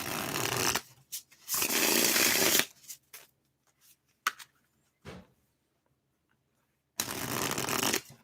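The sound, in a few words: shuffling tarot cards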